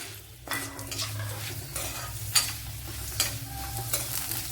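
Papadum fries in hot oil in a pan, with a steady sizzle, repeated bursts of crackling and occasional scraping of a utensil against the pan, close and clear with no talking.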